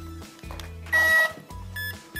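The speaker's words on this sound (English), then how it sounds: "when you hear this last beep, you know that it's ready" A short series of electronic beeps from an RC plane's AS3X gyro initializing, in varied pitches, some low tones and a higher bright chirp, close and clear against quiet.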